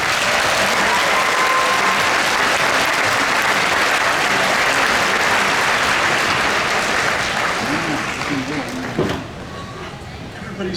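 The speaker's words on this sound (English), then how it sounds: "Can we have a round of applause for them" Sustained applause from a large graduation commencement audience at a university ceremony, dense and steady for about nine seconds before thinning out, with a brief voice near the end.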